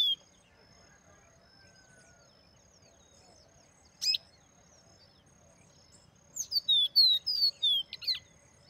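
A caboclinho seedeater sings in the countryside near Juazeiro, Bahia, with a lone high chirp and then a quick run of bright, clustered notes, fairly faint against a quiet background.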